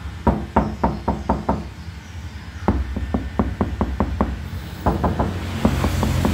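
Knuckle raps on a car door without sound-damping material, a hollow, resonant knocking in quick bursts of four to six taps with short pauses between, close and fairly loud against faint background noise.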